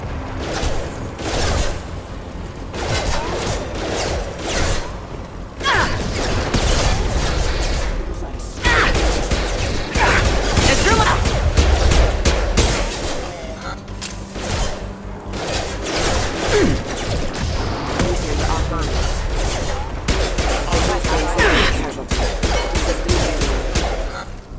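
Gunfire aimed at mechs in the video game Mass Effect 2, with bursts of rapid shots, crashes and booms that come and go over about twenty-five seconds, mixed with other combat effects.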